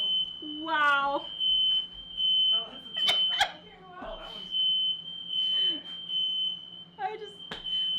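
A smoke detector sounds inside a home kitchen during Thanksgiving dinner cooking, giving a continuous high-pitched electronic tone. A cat meows loudly over it, and there are clatters and knocks nearby.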